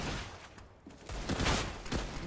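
CZ pistol gunfire in a Counter-Strike: Global Offensive match: a few quick bursts of shots, moderately loud and clustered close together.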